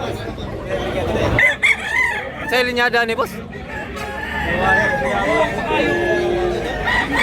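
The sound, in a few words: Gilmore bloodline rooster crowing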